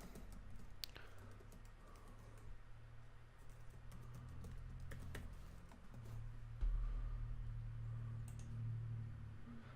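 Keystrokes of a password being entered on a computer keyboard during a Windows 10 install in VirtualBox, a steady run of soft close clicks over a low hum from the room or machine.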